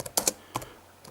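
Quick, uneven keystrokes on a computer keyboard typed with just the left hand, a few close, crisp clicks in a short burst followed by a pause and one more tap.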